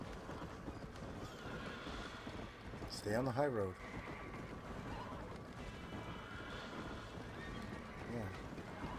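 A horse whinnies sharply once in Red Dead Redemption, standing out briefly over quiet game ambience and hoofbeats while a person talks nearby.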